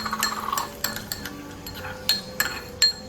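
A utensil clinks and taps against a dish while a cucumber salad with crushed peanuts and sesame is mixed. Light, irregular strikes and soft scraping sit close and fairly quiet, with no talking.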